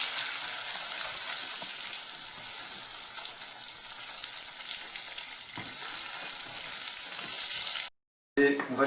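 Butter hitting hot brown caramel for a Breton crêpe sauce, a loud, close, continuous bubbling sizzle that holds steady for several seconds before cutting out abruptly, then resuming briefly.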